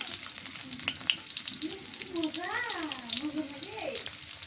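Onions sizzle in plenty of hot oil, frying steadily at close range while a voice talks over the crackle.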